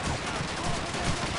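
PPSh submachine gun fire in the World War II shooter Call of Duty 2, a dense, rapid burst of shots that sounds somewhat muffled and steady throughout the brief moment.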